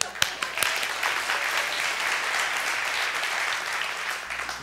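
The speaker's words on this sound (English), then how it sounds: "Your 4 fans clapped when I said that." A church congregation applauds a guest speaker arriving on stage, dense steady clapping filling the room at full level, with a couple of sharp knocks near the start and no voices.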